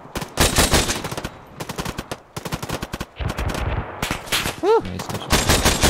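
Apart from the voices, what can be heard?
gunfire in ArmA 3 video game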